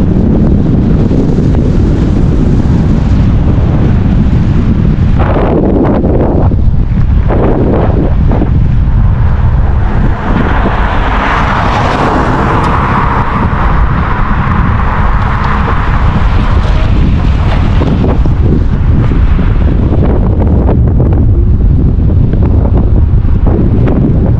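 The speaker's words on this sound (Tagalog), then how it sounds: "Ang mahangin guys" Strong wind buffets the microphone in a coastal town in Saint Stephen, New Brunswick, in spring, a loud continuous roar with gusty swells and no voices.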